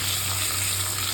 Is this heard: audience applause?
no